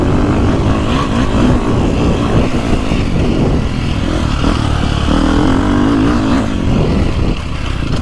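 A 2024 Beta 450RX dirt bike ridden off-road with the throttle backed off, its engine a loud, steady rumble that stays close throughout with slight shifts in pitch.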